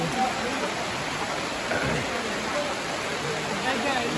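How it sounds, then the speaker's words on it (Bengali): Heavy rain pours steadily at a village bazaar in Tangail, a dense, continuous hiss of falling water close by with no pauses. "এখন অনেক বৃষ্টি পড়তেছে"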